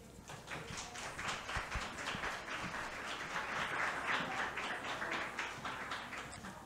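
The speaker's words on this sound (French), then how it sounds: "donc on l'applaudit" A seated audience at a psychology presentation event applauds the presenter, a soft, continuous patter of many hands heard from a distance, steady throughout with no voices over it.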